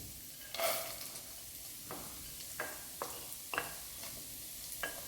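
Curry leaves, ginger, green chilli and chopped carrot frying in a pan, a soft steady sizzle punctuated by about half a dozen brief stirring scrapes, close but quiet.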